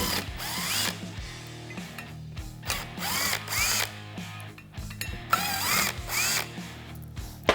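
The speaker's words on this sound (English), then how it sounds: "Just gonna go ahead and remove all 4 of the screws." A power drill or driver whirs in repeated short bursts with ratcheting clicks, backing the screws out of the clutch on a Polaris RZR XP 1000, close up and without talk.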